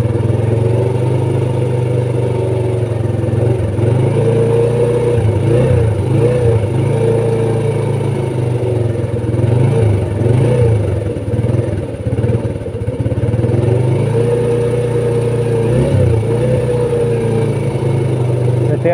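A motorcycle engine idles loudly and close on a cold, overcast morning while warming up, a steady low rumble with slight rhythmic wavering and a few brief dips and revs.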